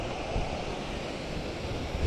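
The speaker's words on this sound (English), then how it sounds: "There's our waterfalls over here." Rushing water from a waterfall in a park in Hawthorne, New Jersey, a steady broadband roar heard from an e-bike ride, continuous and fairly loud with some wind on the microphone.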